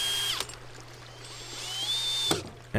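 A power drill cutting a hole in a prototype filtration part for a microhydro turbine, a steady whine that rises in pitch briefly, then cuts off as the bit catches, with another short burst at the end.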